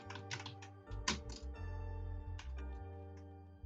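Rapid typing on a computer keyboard, a close run of light plastic key clicks in quick uneven bursts, with a steady low hum underneath and no talk.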